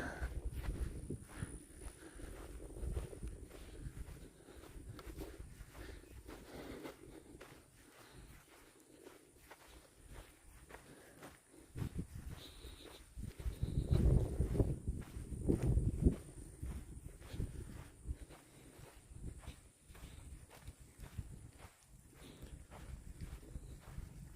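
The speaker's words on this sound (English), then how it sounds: "Thought I heard footsteps." Footsteps crunch along a trail in the Marshall Hampton Reserve, a faint, steady walking rhythm that grows heavier and louder in the middle before easing off, with no talk.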